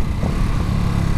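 Ducati Supersport 950 motorcycle engine revving in a short, loud, steady roar from a throttle blip, close up, with no talk.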